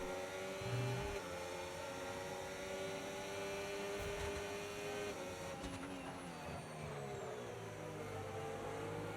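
A Formula racing car's high, whining engine in an F1 video game race at Australia, a steady loud tonal drone with shifting pitch and a brief downward sweep, with no talk.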